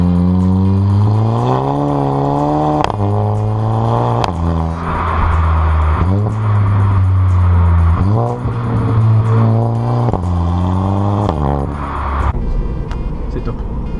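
Loud exhaust of a VW Golf VII GTI tuned to Stage 1 at about 300 hp, revving hard through a series of accelerations and gear changes, with voices talking over it.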